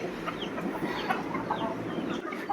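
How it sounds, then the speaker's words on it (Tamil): Backyard chickens cluck steadily as a flock crowds around sprouted millet and sorghum feed, a dense, continuous murmur of soft calls with no talking. "நம்ம ரெடி பண்ணி கொடுக்குற தீவனங்களை கோழிகள் பாருங்கள் எவ்வளோ ஆர்வமாக வந்து போட்டி போட்டு சாப்பிடுதாங்க"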